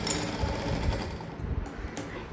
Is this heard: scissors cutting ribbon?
no